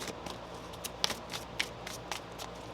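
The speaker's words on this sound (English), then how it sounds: "One more shuffle." Tarot cards being shuffled by hand, a run of crisp riffling flicks and soft card slaps close by, irregular and fairly quiet over faint background hiss.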